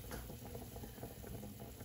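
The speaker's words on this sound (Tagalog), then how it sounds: "At kumukulo na" Sinigang soup with pork ribs and taro bubbles and simmers steadily in a pot, a soft continuous burble with small pops, close and fairly quiet, no voices.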